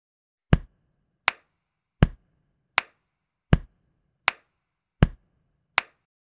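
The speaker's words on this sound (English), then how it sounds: "Now let's alternate chest, clap, chest, clap." Body percussion alternating chest pats and hand claps, eight crisp, isolated hits in an even, steady rhythm, with duller thumps trading off against sharper claps and silence between each beat.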